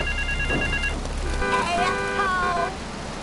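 In GTA 3, a telephone rings in repeated electronic trilling bursts amid city ambience and traffic noise, with a voice talking alongside.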